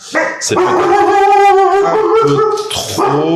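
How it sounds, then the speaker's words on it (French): A house dog barks in short, excited yelps while greeting someone arriving home, heard up close and mixed in with someone talking. "désolé pour mon chien qui accueille mon fils qui rentre à la maison"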